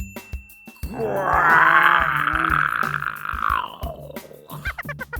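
A voice imitates a bear's growl: one long, loud, groaning rumble that holds for about three seconds, then fades into softer murmurs.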